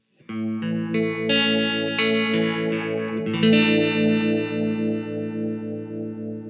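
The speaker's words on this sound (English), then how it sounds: "that's our typical harmonic tremolo sound of high pass versus low pass" Sustained electric guitar chords pulsing with a wobbling harmonic tremolo from a Spaceman Effects Delta II pedal, alternating high-pass and low-pass, the tone swelling and thinning in steady waves, played alone.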